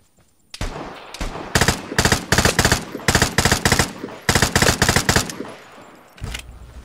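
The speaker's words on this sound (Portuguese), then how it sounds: "Tá mirando em mim, atirando na pedra." Rapid automatic gunfire from the video game Vigor rattles out in several loud, close bursts of evenly spaced shots, separated by brief pauses, with a final short burst near the end.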